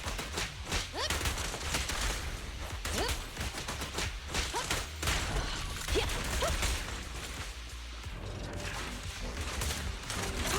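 Dense stretches of rapid gunfire from Zenless Zone Zero combat, layered with mechanical clatter and whooshing attack effects, loud and continuous throughout with little pause.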